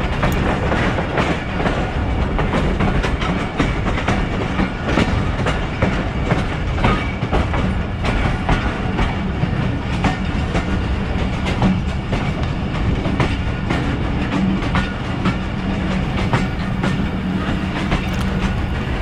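Thal Express 130DN passenger train on its run from Rawalpindi to Multan, rumbling steadily with a continuous clickety-clack of wheels over rail joints, loud and close throughout, with no voices.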